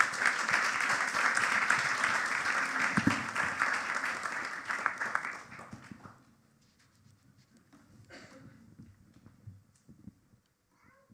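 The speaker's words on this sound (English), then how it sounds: "please welcome her with a round of applause" Indoor audience at a devotional gathering clapping to welcome a speaker, dense applause for about five seconds that thins out and stops, followed by quiet room sounds.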